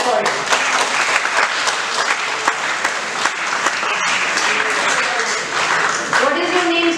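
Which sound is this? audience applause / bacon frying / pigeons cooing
audience applause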